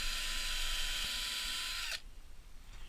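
A power drill fitted with a 2.5mm or 3mm bit whirs steadily at high speed while assembling a DIY router table, running loud and close for about two seconds before stopping abruptly, leaving quiet room tone.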